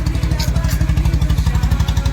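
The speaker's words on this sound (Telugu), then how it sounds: "engine sound" A Honda CB 350RS motorcycle engine, started after sitting unused through heavy rain, idles close by with a steady, even low thumping pulse, loud and smooth-firing.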